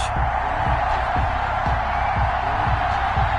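A stadium crowd roars steadily in an EA Sports football video game before a Tampa Bay Buccaneers versus Cleveland Browns matchup, forming a loud, constant wash of cheering with a repeated low thumping underneath.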